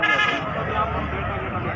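A goat bleats briefly at a busy livestock market, a wavering nasal cry near the start, then people talk and background crowd babble continue after it.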